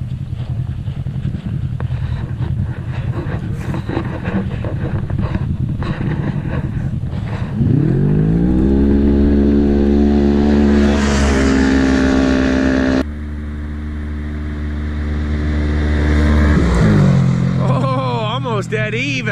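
Polaris RS1 and Arctic Cat XX side-by-sides racing side by side, engines idling low then revving hard and climbing through the gears, loud and close, with a voice talking over the roar.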